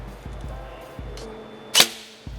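A G&G ARP-9 airsoft gun, powered by an 11.1 V LiPo, fires P-Force 0.20 gram BBs, a few sharp, close single shots spaced apart, one louder crack standing out.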